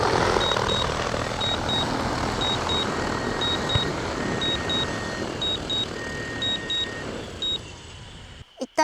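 A drone flies over a potato field on a hot, windy day, its steady engine drone continuous and fairly loud throughout before cutting off abruptly near the end.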